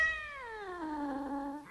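A cat gives one long, drawn-out meow that descends in pitch, heard close and alone in a quiet room.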